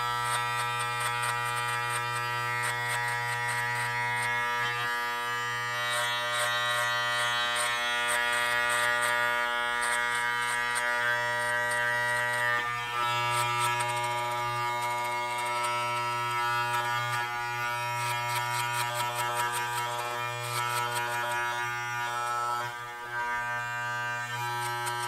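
Electric hair clippers with the lever open buzz steadily and close by while cutting hair, a constant motor hum with slight shifts in tone as the blades pass through, no voices.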